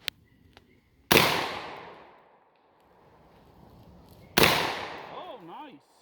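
Two sharp shotgun blasts from a GForce GFY-1 fire about three seconds apart, each a loud crack trailing into a rolling outdoor decay, with brief voices murmuring faintly between shots.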